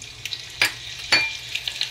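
Cumin and mustard seeds tempering in hot oil in a pan, giving a low steady crackle with two sharper pops and scattered small spits, close and fairly quiet, with no talk.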